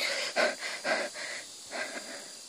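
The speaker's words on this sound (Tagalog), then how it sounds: "Hingal ako." Heavy, rhythmic panting breaths from a winded person, several wheezy exhalations in a row, close to the microphone and fairly quiet, without talking.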